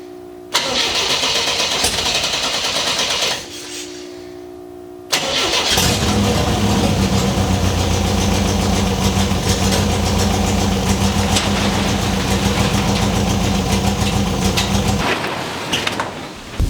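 A car engine in an MGB cranks and sputters, stops briefly, then catches and settles into a loud, steady idle for several seconds before cutting out, out of gas.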